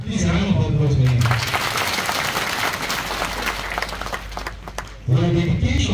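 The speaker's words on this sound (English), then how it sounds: "Please round of applause for him." Audience applause at a community gathering honoring Sheikh Ismail Umar Usman Al-Mukhtar Mediwani, a dense steady clapping wash lasting several seconds between stretches of a speaking voice at the start and end.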